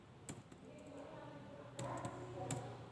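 Typing on a computer keyboard while coding a button in Adobe Flash CS6, with scattered close clicks and taps, a couple of louder key strikes, over a faint room hiss.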